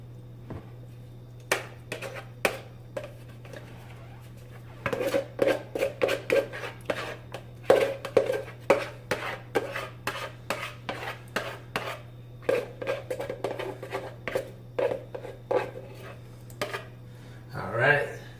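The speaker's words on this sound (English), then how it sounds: "toss in the cooled down onions." Cooled-down onions tossed into a cooking pan, a busy run of sharp metallic clatters and scrapes in an irregular rhythm over a steady low hum, with brief pauses between bursts.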